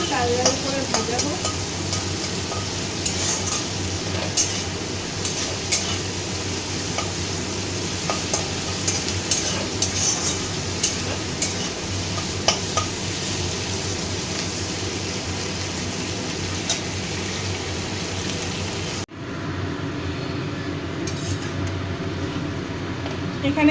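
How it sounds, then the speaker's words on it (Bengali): Chicken pieces frying and being stirred in a pan with onion paste, a steady close sizzle running throughout with occasional scraping, quieter in the last few seconds. "চিকেনগুলো একটু ভাজা ভাজা করব"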